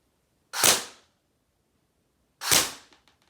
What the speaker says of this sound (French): on va directement passer au tir en mode semi